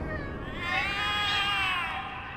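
Meowing cats in the video game The Cat Lady, a close, drawn-out wavering cry over a low background hum.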